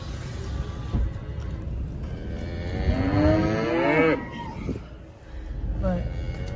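Cattle moo in a pasture, one loud drawn-out call rising and falling near the middle, with other bawls and shuffling around it and some low background noise.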